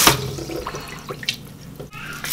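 A small amount of water is poured into a pressure cooker holding pork for chicharon bulaklak and crispy pork belly, giving a brief splashy pour at the start followed by light dripping and trickling, close by.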